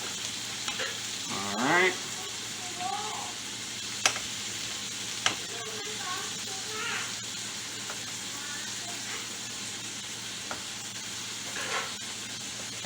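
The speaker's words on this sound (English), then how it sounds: "Take your same spatula you've been using. And just fluff that rice up a little bit" A spatula scrapes and fluffs cooked rice in a pan, giving soft intermittent scraping and a few sharp taps against the pan over a faint steady hiss. A voice speaks briefly.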